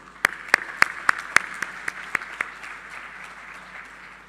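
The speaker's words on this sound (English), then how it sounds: "who I also think deserve a huge round of applause as well" A handful of sharp, separate hand claps ring out at a university convocation. Roughly nine distinct claps land in an irregular rhythm and fade quickly, leaving a soft room hush.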